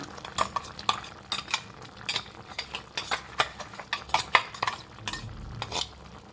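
Spoon stirring ground coconut and cashew paste into a pan of Guntur-style chicken, with repeated close scraping and clinking strokes in an irregular rhythm, no talking.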